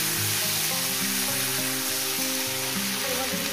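Small river fish fry in a pan with dried chillies and five-spice tempering, giving a loud, continuous sizzle that holds steady throughout, close up and with no talking.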